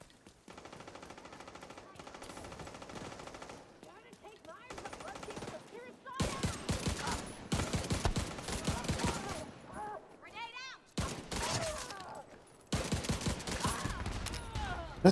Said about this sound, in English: That's a rifle, right?